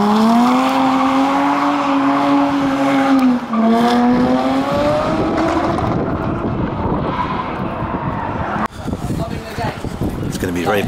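Race car in GT Sport shown at a London launch event, engine note rising and falling through gear changes and braking toward the pit lane, loud and close with a voice talking over it.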